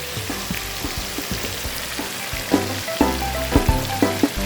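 Chilies frying in a pan after garlic sizzle with a steady hiss, joined by loud, rhythmic clatters and scrapes of a spatula toward the end, close by.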